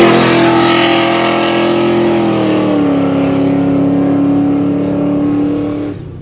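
An off-road rally car at the Cliffhanger 2025 Road Runner Offroad event roars loudly with a steady droning engine note, its pitch dropping slightly as it passes, then cuts off abruptly.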